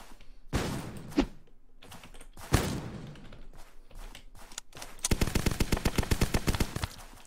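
Video game gunfire from an online io shooter: a few separate sharp shots, then a fast rattling burst of rapid automatic fire near the end, loud and close with no talking.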